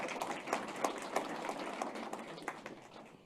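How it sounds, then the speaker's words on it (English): A round of applause for Francois Deravel at an MFP Outcome Matters event, many hands clapping in a dense, steady patter that stays fairly faint and distant throughout. "Can we give another round of applause to Francois Deravel?"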